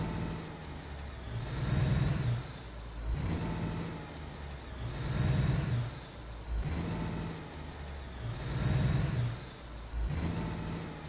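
A truck engine in the video game Alaskan Road Truckers hums at mid pitch and swells in three repeated waves, rising and easing back.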